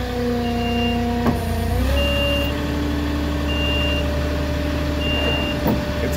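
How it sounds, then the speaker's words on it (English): A flatbed truck with a Moffett forklift attached sounds its reversing beeper in a steady, evenly spaced series of tones over a loud, close idling diesel engine, with the engine note shifting partway through. "It's early and I got my beeper on"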